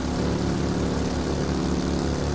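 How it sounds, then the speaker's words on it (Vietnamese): In the video game Ride to Hell: Retribution, a car engine gives a steady, loud, low droning hum with a faint rhythmic pulse that fills every moment without a break, with no voices audible. "tiếng động cơ xe ì ì vụt màu và rất dễ gây ức chế đã át hết đi cuộc trò chuyện của các nhân vật"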